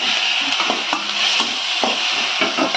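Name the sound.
stirring onion and tomato in pan for chutney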